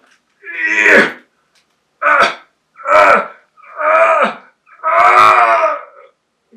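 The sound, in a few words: storyteller imitating a T-Rex sneeze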